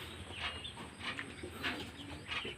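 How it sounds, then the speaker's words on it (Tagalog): Pigeons coo softly in a loft, a few low repeated calls in soft bursts over steady background noise, fairly faint and at a distance, with no talking. "May kalapati pa doon"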